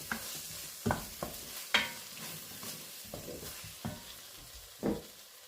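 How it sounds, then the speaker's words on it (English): Paste for ham hock baked beans gets stirred and toasted in a pot, with a gentle sizzle under repeated scraping and clinking strokes of a spoon. "let's toast that paste off just a little bit, give it a quick stir through"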